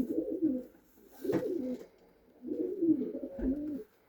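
Pakistani pigeons coo in several soft, throaty bursts, close by and clear, with short pauses between the calls.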